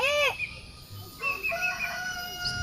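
A rooster crows once, loud and close, its call sliding up then down, followed by a thin whistling tone over steady outdoor background hiss.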